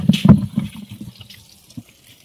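Water splashes and gurgles close by in a few quick bursts, then fades into softer, scattered drips and trickles.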